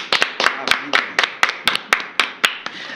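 Live audience clapping after a presentation on a Brazilian show, a sparse, fairly close patter of hand claps in a loose, uneven rhythm with no talk over it.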